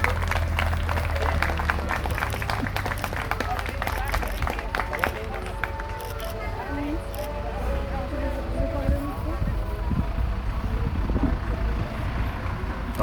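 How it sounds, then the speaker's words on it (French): Guests applaud the couple at a secular wedding ceremony, a steady dense clapping that fills the whole stretch, with voices talking and cheering among it. "Il faut applaudir les maris."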